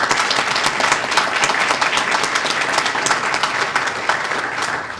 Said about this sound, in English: Let's give Mike a round of applause.